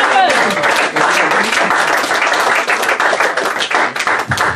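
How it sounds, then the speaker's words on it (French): A congregation at a French-language church service breaks into dense, sustained applause mixed with cheering voices, loud and close throughout. "Est-ce qu'on peut acclamer Dieu pour leur vie?"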